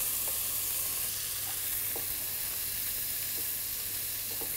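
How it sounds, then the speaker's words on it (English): Chopped vegetables soften in a hot pan, a soft steady sizzle and hiss with a few faint clinks of utensils, close by and without voices. "So we're just going to soften the veg and then deglaze it with the white wine"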